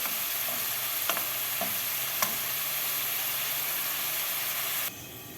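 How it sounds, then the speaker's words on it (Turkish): Onions being sautéed in a pan until they turn pink, with a steady, close, bright sizzle and a few clinks of a spoon stirring them, and the sizzle drops off abruptly near the end. "Şöyle pembeleşen soğanlarımı karıştırıyorum tekrardan"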